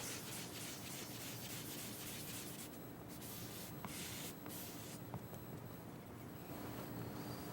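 Cork dipped in cleanser rubs rust off a steel knife blade in a steady circular motion, a continuous close scratchy scrubbing with no pauses and no voices.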